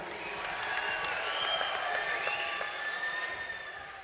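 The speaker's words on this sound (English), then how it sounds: "Big cheer goes up for Bettina Lili Cifra of the home nation" A home crowd at a gymnastics arena cheers and applauds Hungarian gymnast Bettina Lili Cifra before the women's floor final, a sustained, loud roar of voices and clapping with whistles.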